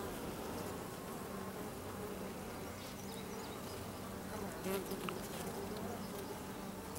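Honey bees drone in a steady, continuous buzz close by during a hive inspection, a dense, even hum that stays constant throughout with no talking.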